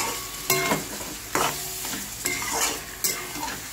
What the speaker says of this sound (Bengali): গ্যাসটা কিন্তু আমি কমাবো না, বাড়ানোই থাকবে, জাস্ট মাংসটা তাড়াতাড়ি ভাজা হওয়ার জন্য।